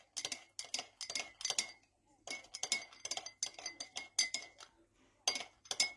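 A spoon clinks repeatedly against a tea glass while stirring honey into tea, a quick run of bright metallic taps in irregular bursts with brief pauses between them, close and clear.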